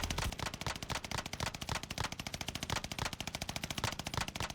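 Rapid automatic gunfire from the Venom Custom, a yellow gun in the video game Warzone Pacific, rattles in a dense, steady stream of loud, close shots.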